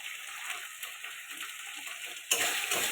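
Turmeric, chilli and salt being stir-fried in a pan for a rohu fish and cauliflower curry, a steady close sizzle with scraping stirs, growing louder and busier near the end.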